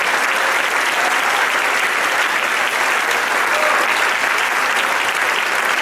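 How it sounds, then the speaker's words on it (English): Wedding guests at a ceremony applaud steadily for the newlyweds, a dense, sustained wash of clapping from the whole crowd that holds evenly throughout. "one big more round of applause for Mike and Val."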